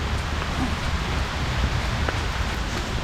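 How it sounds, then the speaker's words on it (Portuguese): Rain falls through trees in a city park in Cluj-Napoca, a steady dense hiss of drops on leaves with a few louder individual patters, close and continuous with no talk. "dá pra perceber que a chuva cai mais forte"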